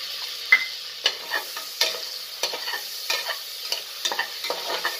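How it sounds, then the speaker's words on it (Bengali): Almonds are stirred in a hot pan for paneer butter pulao, giving a quiet steady frying hiss marked by frequent light scraping strokes and clicks of the spatula, close by with no voices. "বাদামটাও একটু নাড়াচাড়া করব"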